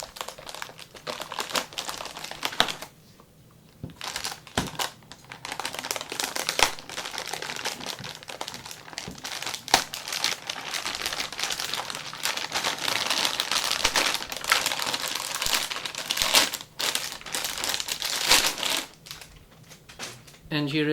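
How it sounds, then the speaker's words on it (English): An EVGA GTX 295 Co-op Edition graphics card is pulled from its packaging with close crinkling, rustling and crackling of plastic and foam, in uneven bursts, while someone talks over it. "Let's have a look at the main card itself and take this out of the packaging."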